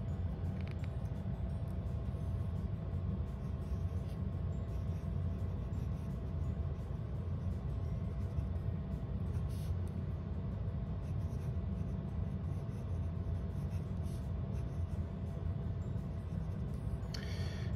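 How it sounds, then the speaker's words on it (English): Writing with a Platinum Pocket Pen fitted with a fine 14 karat gold nib, a soft continuous scratching of nib on paper beneath steady background noise, with faint faster strokes at times, no talking. "writing with the Platinum Pocket Pen"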